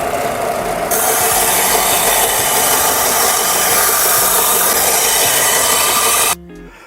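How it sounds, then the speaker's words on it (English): A belt sander grinds steadily against the curved edge of a wooden serving board, a loud, continuous close-up abrasive roar that runs for several seconds before cutting off abruptly. "I'm going to go ahead and do it here on the belt sander"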